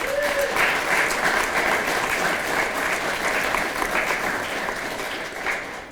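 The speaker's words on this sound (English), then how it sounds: "Another round of applause for our city councilor." Sustained applause from an audience at a Veterans Day 2019 ceremony, honoring a city councilor; a dense, steady wash of many hands clapping that holds for about six seconds, slightly fading at the end.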